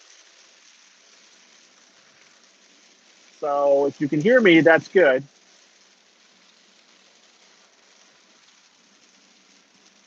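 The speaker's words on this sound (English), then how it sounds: "there's definitely a lot of noise from the rain hitting my car." Heavy rain drums steadily on a car while driving, a constant hiss of droplets on the roof and glass running throughout, with someone talking briefly over it partway through.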